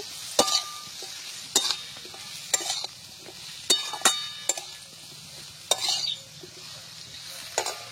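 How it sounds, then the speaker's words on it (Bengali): Eggplant is stirred in a frying pan over a soft sizzle, with sharp clinks of a utensil scraping and tapping the pan at irregular intervals. No one talks. "বেগুনগুলো দেওয়ার পর আর একটু ভালো করে নাড়াচাড়া করব"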